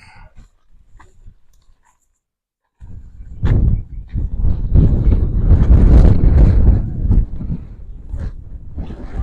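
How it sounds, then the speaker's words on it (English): Wind blowing outdoors in a desert ghost town: a few quiet seconds, then strong gusts buffeting the microphone in loud, rough, low rumbling bursts that continue to the end. "just had some wind that just blew in here real quick"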